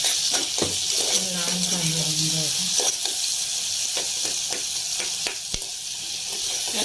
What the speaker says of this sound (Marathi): चांगला ब्राऊन होईपर्यंत आपल्याला फ्राय करायचं आहे